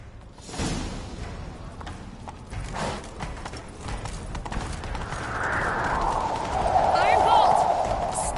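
Hooves of a horse in The Witcher 3 clatter in a steady galloping rhythm under game music and ambient noise, with a horse whinny rising near the end.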